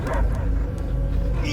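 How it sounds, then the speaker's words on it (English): A dog barks and yips in the video game Guardians of the Galaxy, several quick close barks with whimpering tones over a low rumbling background, with some speech mixed in. "I hear only barking."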